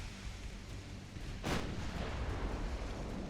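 Battleship main guns firing in the naval game Ultimate Admiral Dreadnoughts, one heavy distant boom rolling out over a steady rumbling sea-and-battle ambience.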